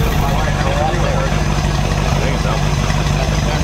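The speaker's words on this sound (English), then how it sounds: "we're going to go ahead and start the engine, warm it up a little bit" A Ford or Chevy inboard marine boat engine with points ignition idles as it warms up, a steady, rumbling drone up close, constant and unbroken, with no talking.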